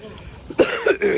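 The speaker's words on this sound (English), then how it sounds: "Still coughing." A sharp, raspy cough bursts out, followed by two more rough coughs and throat-clearing sounds, close and loud in a quiet room at a beach in Taiwan.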